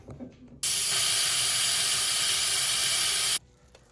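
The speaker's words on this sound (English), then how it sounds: "I'm going to release the pressure and get it ready to use for dinner" An Instant Pot cooking chicken bone broth releases its pressure in a loud, steady hiss of steam that starts abruptly, holds for about three seconds, then cuts off into quiet.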